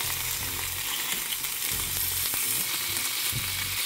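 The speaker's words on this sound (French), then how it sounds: "je suis en train de faire dorer le tofu" Tofu browning in a pan with garlic and courgette, a steady close sizzle and crackle running throughout, with occasional soft stirring scrapes and no talking.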